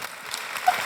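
Audience applause for a jury member being introduced at a pitch competition grand final, a brief, moderate burst of clapping from a crowd, with no voices over it.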